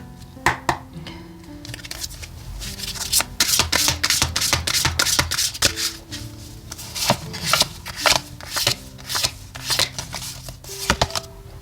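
Tarot and oracle cards being shuffled by hand make a quick, uneven run of close, crisp riffling and slapping bursts that repeat for several seconds, with no talking.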